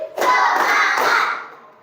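A classroom of children claps together in a brief, loud burst of hands that swells quickly and fades out within about a second and a half.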